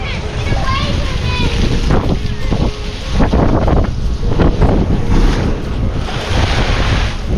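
Seawater bursts and surges at the Nakalele Blowhole on Maui's rocky coast, loud crashing whooshes over strong wind buffeting the microphone, with people talking nearby.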